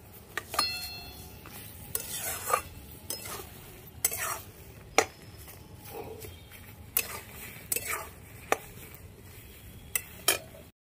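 Cabbage paste stirred in a hot pan with a metal spoon, repeated sharp scrapes and clinks against the pan over a soft sizzle, close and continuous.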